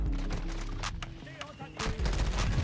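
Bursts of shooter-game gunfire from newly added weapons, quick cracks and rattling shots mixed with game effects, fairly close and steady across a short stretch.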